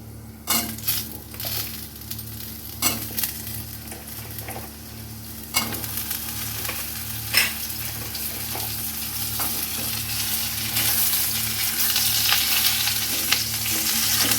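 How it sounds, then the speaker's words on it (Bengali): Potatoes and pointed gourd with green chilies fry in a pan, giving a steady close sizzle that grows louder over time, broken by scraping and clinks of a spatula stirring against the metal. "দেখুন আমার আলু পটলগুলো কিছুটা ভাজা হয়ে গেছে।"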